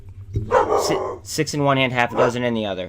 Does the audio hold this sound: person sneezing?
no